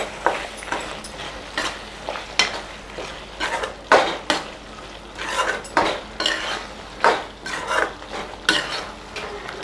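A spoon stirs and scrapes a potato and capsicum gravy sautéing in a pan, giving repeated clinks and scrapes in an uneven rhythm over a low sizzle, close with no voices.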